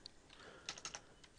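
Typing on a computer keyboard while entering code in a Ruby on Rails tutorial, a quiet spread of light key clicks with a short cluster of sharper taps near the middle.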